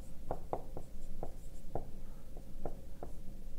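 A marker or pen writes on a board during a physics lesson, with a series of soft, irregular taps and strokes heard close and fairly quiet.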